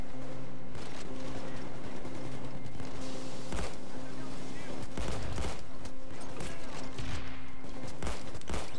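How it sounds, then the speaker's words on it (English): Shotgun blasts in the heist shooter Payday 2 during a Big Bank mission on Overkill difficulty: several sharp, loud booming shots at irregular intervals over a steady game hum and background music. "My shotgun is so powerful, I can lightly snipe with it."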